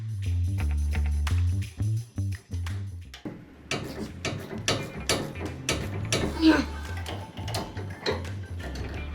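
Metal clicks and ratcheting ticks from a wrench working a sway bar end link nut on a 2005–2015 Toyota Tacoma while pliers grip the washer, close and irregular, with a voice talking over part of it.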